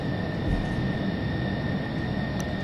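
An F-14D Tomcat jet taxis in Flight Simulator X, giving a steady, loud engine roar with a constant high whine and no voices over it.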